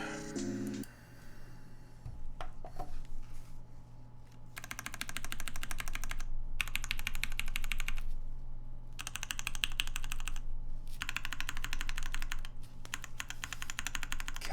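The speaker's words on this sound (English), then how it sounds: "Play some keyboard sounds for y'all." Typing on a Cyber Board mechanical keyboard fitted with SP Star switches, bursts of rapid close clacking in several runs separated by short pauses, over a steady low hum, no talking.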